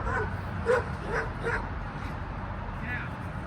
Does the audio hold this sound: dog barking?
yes